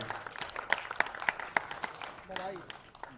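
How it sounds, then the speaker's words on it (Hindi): Scattered applause at a ghazal album launch event, a handful of distinct, fairly sharp claps in an uneven run, then a voice speaking as the clapping thins out. "प्लीज जोर से तालियां बजाएं।"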